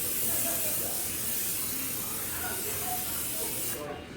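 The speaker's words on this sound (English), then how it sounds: "First thing you're gonna want to do before you put the dough onto the aluminum foil is to spray it with some cooking spray." Cooking spray from an aerosol can hisses steadily onto aluminum foil for nearly four seconds, a close, continuous spray that cuts off abruptly at the end, with no speech over it.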